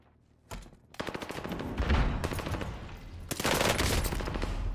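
Rapid automatic gunshots in Call of Duty Warzone, a close, loud stream of shots that starts after a brief quiet moment and keeps going steadily to the end with no talking.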